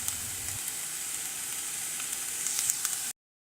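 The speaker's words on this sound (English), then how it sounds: "I'm going to let the onion simmer for around 9 minutes." Chopped onion frying in a pan for fried rice, giving a steady, even sizzle of moderate loudness that stays close and constant before cutting off abruptly near the end.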